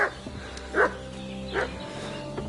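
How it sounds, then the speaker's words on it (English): A dog barks in a video game, a few short yipping barks spaced apart over a steady low background hum. "What's that dog making such a fuss about?"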